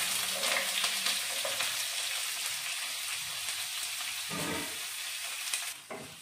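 Onions sizzle in hot oil with star anise, cardamom, cumin and bay leaf, a loud continuous crackling fry with occasional stirring scrapes, heard alone.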